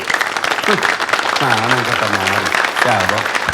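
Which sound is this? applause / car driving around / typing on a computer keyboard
applause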